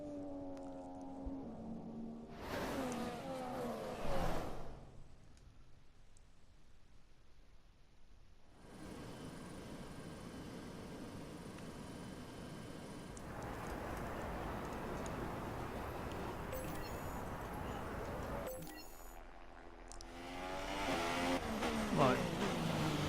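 F1 race car engines in the F1 2017 video game at Monaco, a steady high-pitched roar that rises and falls through gear changes, with brief drops where the revs dip, loud and continuous.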